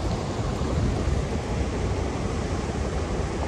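Sissu Waterfall rushes in a dense, steady roar of broadband water noise with no pauses, loud and close, with no voices over it.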